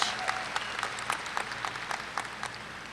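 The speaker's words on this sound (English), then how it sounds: "Let's also give them a round of applause" Steady applause from a large audience at a university spring commencement ceremony, a continuous wash of clapping heard from a distance at moderate volume.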